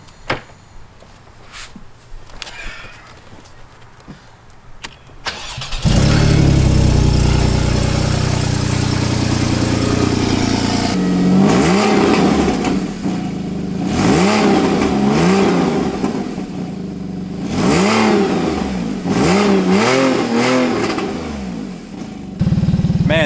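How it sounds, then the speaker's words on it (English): A salvaged 2016 Porsche 981 engine starts and idles with a deep rumble, then is revved repeatedly in loud rising and falling bursts. "All right, let's get some revs."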